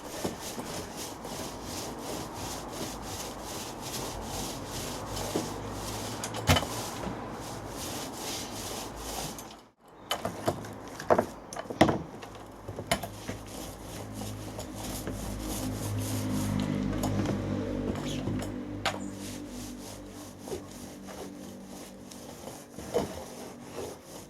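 A brush rubs wood preserver onto outdoor decking boards in a continuous close scratchy swishing, broken by a brief gap and a few sharp knocks and taps.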